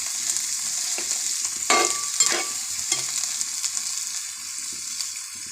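Sliced onions fry in a pan for a 1.5 kg beef curry, a steady close sizzle broken by a few scraping stirs, with no voices.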